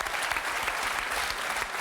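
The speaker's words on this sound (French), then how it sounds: "moi, perso, je vous applaudis" Steady applause from a game-show studio audience, dense and continuous across the whole moment with no voices standing out.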